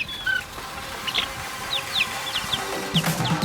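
Loose backyard chickens clucking and chirping, a series of short, bright calls scattered over steady outdoor background noise, with several quick clucks bunched near the end, fairly close and clear.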